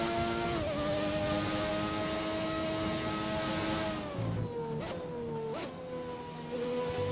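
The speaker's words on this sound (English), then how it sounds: "Your car actually does sound really nice compared to all of these McLarens." Engine of a classic car in a racing video game, revving at a steady pitch, then dropping in tone, followed by two quick blips of the throttle, alone and fairly close.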